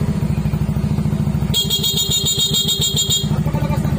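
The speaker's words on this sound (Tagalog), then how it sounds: "At pagkalakas ng busina, ba't gumagana?" A Yamaha Mio Soulty motorcycle engine idles steadily, then a loud, bright horn honks continuously for about two seconds before cutting off, the engine still running underneath.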